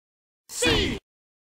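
A voice imitates a basketball bounce with one short, soft voiced thump lasting about half a second, alone against silence.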